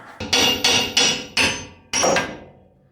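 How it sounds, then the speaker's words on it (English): Five sharp, ringing hammer blows strike a metal part on a GMC Sierra pickup, the first four evenly spaced, then a short pause before the final hit rings out and fades. "I'm just gonna hit it with a hammer"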